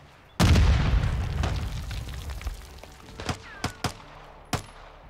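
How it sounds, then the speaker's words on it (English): Gunfire in the video game Call of Duty: Modern Warfare II, opening with a heavy booming volley that rumbles and fades, followed by several sharp separate shots cracking at irregular intervals. "We are shooting."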